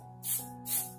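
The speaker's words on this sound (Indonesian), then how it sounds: "Kita semprot dulu clearnya untuk" Two short bursts of an aerosol clear coat spray onto a glass bearing a sticker decal, each a sharp close hiss lasting about a quarter second, over a faint steady hum.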